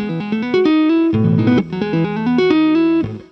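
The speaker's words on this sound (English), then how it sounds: "It has this quite fast-paced, tricky tapping riff" An electric guitar plays a fast, tricky finger-tapping riff, clean rapid note patterns repeating loudly and close before ending abruptly.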